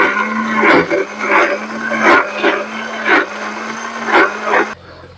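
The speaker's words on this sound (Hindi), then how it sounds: "तो मैं इसको पीस लेता हूं मिक्सर में।" An electric mixer grinder grinds organic fertilizer ingredients with a loud, steady whirring hum, surging and easing in roughly one-second pulses before cutting off near the end.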